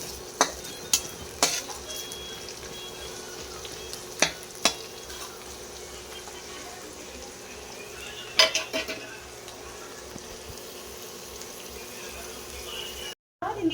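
Onions being sautéed in a pan, a soft steady sizzle with occasional sharp utensil clinks against the pan, heard at low level.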